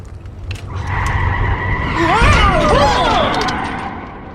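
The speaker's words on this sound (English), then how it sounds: "Stop the car!" A car skids to a stop with loud, sweeping tire squeals over a rumbling engine, swelling to a peak midway and easing off, close and prominent throughout.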